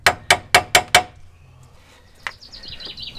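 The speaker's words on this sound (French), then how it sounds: "vous prenez votre petit maillet magique." A small mallet strikes metal five times in quick, even succession during a clutch change on a Peugeot 206, loud and close, followed by quieter workshop clatter and faint squeaks.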